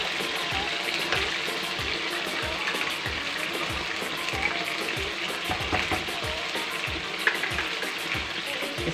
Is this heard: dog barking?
no